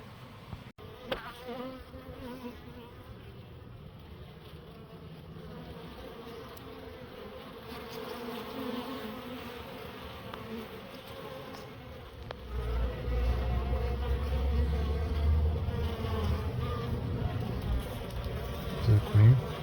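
Honeybees swarm and buzz around a hive in a steady, dense drone that grows louder and nearer in the second half, with people talking intermittently over it.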